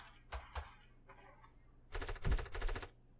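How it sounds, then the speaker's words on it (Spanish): A couple of sharp shots, then a rapid burst of automatic gunfire, fairly close and punchy, over a low steady hum. "¿Y por qué escucho disparos atrás de mí?"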